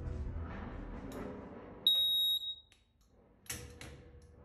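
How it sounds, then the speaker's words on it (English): A single bright electronic beep from a barge boat's device rings out for about half a second, sharp and clear, between soft handling noises and a later clunk. "we got a light and a beep"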